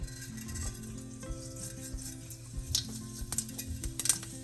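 Mustard seeds sizzle and pop in hot oil for tempering, with light crackles and faint stirring clicks over a low, steady hum.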